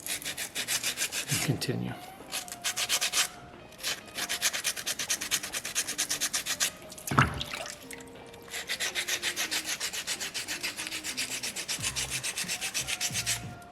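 Sandpaper rubs over a soapstone polar bear carving in quick, rhythmic back-and-forth strokes, with short pauses between bursts and a few words spoken partway through.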